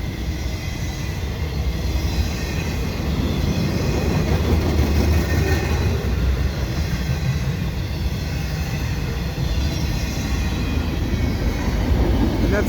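Via Rail LRC passenger cars roll past at Dorval in winter, a continuous loud broadband rush of wheels and rails with faint clickety-clack running the whole time, close by and without voices.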